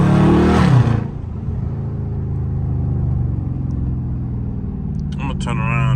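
A Dodge Scat Pack rumbles with a deep, steady engine drone while being driven hard in traffic, opening with a loud burst of rushing noise before settling into a sustained, throaty hum.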